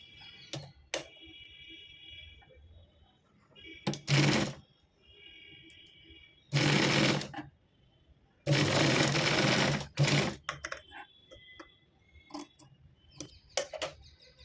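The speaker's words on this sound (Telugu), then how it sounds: "సేమ్ ఇంకో లేయర్ పెట్టి ఇలా మళ్ళీ స్టిచ్ చేసుకోవాలండి." A sewing machine stitches layered fabric for a blouse latkan in short bursts of close, loud motor whir, separated by quieter pauses filled with small handling clicks and taps.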